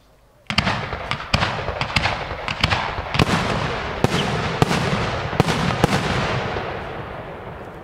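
Large 100 mm caliber display fireworks at an outdoor pyrotechnics product demonstration, firing as a rapid series of loud booming bursts with crackling tails, about a dozen sharp reports over several seconds.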